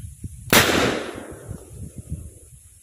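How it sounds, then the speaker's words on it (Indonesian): A single sharp firecracker bang bursts out loudly, then rings and decays over a couple of seconds above a low background rumble. "Ternyata mercon spiritusnya masih mantap"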